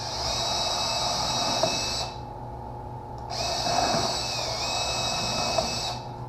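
A high-pitched power drill whines steadily while pre-drilling wood, pausing briefly midway and near the end, with a low background hum throughout.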